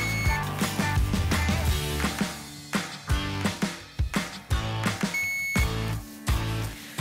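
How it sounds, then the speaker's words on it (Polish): A short, high electronic beep from a vibrating hair brush sounds near the start and again later, each brief and clear, over steady rhythmic background music. "co chwilę szczotka wibruje i jest delikatny sygnał"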